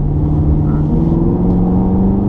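A Chevrolet Camaro SS engine drones loudly and steadily with a rising pitch as it accelerates out of a corner on the BMW Driving Center race track, heard from close range with no voices.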